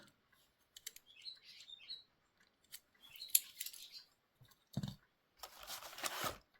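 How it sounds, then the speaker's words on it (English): Small bird singing near a window, faint, sporadic high chirps and tweets scattered through otherwise quiet indoor surroundings, with occasional soft clicks and rustles. "I have bird singing."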